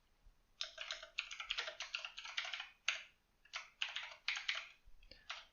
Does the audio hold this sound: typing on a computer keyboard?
yes